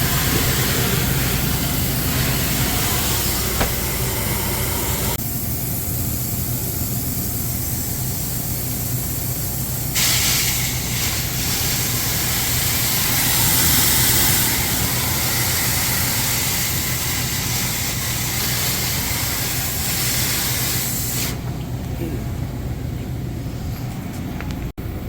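A water spray rinses ice off a 32-foot deli case wall, a loud continuous hissing rush with changes in tone as the spray shifts, steady throughout.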